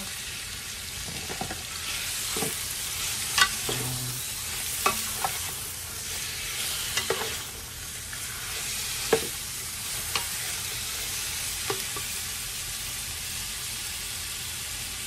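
Pork belly sizzles and fries in a hot pan for a Filipino chopsuey, a constant close crackle broken by scattered clinks and scrapes of a utensil stirring the meat, with no talk.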